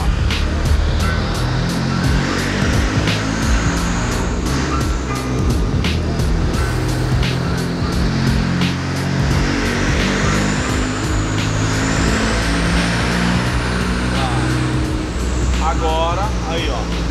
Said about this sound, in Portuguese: vou acelerar aqui o carro